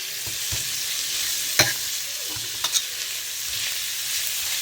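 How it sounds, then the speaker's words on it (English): Onions and whole spices fry on medium heat for a lamb curry, a steady close sizzle with a few light clicks and scrapes of stirring, no talking. "on medium heat, I'll just allow my onion to brown and just cook through the whole spices"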